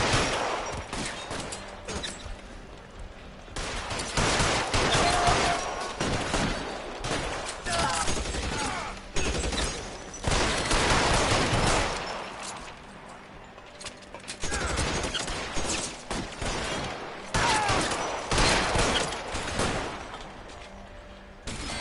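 Shootout gunfire in LA Noire, with bursts of rapid shots and clattering weapon mechanics coming in several loud waves separated by brief lulls, with voices talking in between.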